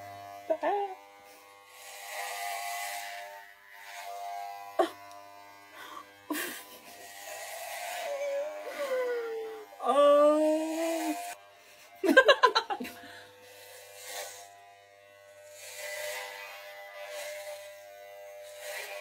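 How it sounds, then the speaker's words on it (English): An electric razor shaves frizzy hair off a girl's head, its buzz rising in several separate bursts, with chatter and laughter between and over it. "Guys, I'm shaving my head."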